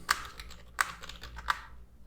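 Keys tap on a computer keyboard while someone writes JavaScript code. Three distinct, evenly spaced clicks stand out close up over a quiet background.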